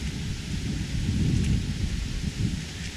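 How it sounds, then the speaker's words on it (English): Rain falling near a beaver pond in a marsh, a steady dense hiss with low rumbling undertones, continuous and fairly loud throughout, no voices. "now it's raining again"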